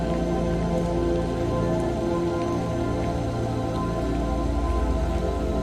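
Steady rain falls in an even, unbroken hiss for the whole stretch, with a soft sustained tonal hum underneath and no voices.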